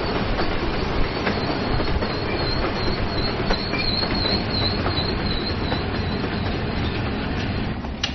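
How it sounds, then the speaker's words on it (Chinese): A military train moves in slowly, its steady heavy rumble filling the scene with rhythmic wheel clatter and faint high squeals from the wheels throughout. "随着军列的正常运行，火车缓缓地驶进了162殿后。"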